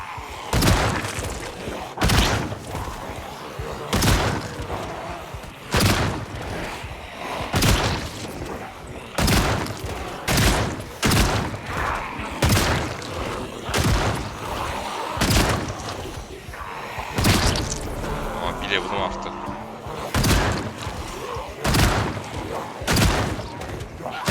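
Shotgun blasts fired at zombies in a video game, heard as a steady run of loud, sharp booming shots spaced about a second apart across the whole stretch.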